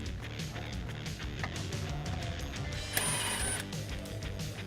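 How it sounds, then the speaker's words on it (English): A 10mm socket on a ratchet loosens the throttle body clamp of a Tacoma's intake, giving quick mechanical clicks and a brief metallic rasp, close and fairly quiet against a steady room background. "we're going to take a 10mm socket and loosen that clamp around the throttle body"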